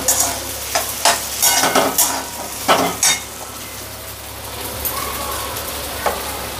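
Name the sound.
stirring boiled potatoes in a frying pan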